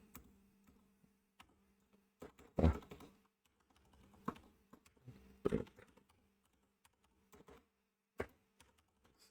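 Quiet keystrokes as code is typed on a computer keyboard, sparse taps and short bursts with pauses between them, recorded close in a quiet room with no talk.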